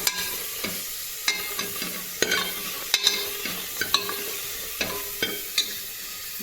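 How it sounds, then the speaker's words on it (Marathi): Onion sautéing in a pressure cooker, with a spoon or ladle stirring against the metal in sharp, irregular clinks and scrapes over a low, steady sizzle, close by and with no talking. "आणि हा कांदा मी कुकरमध्ये परतायला टाकते."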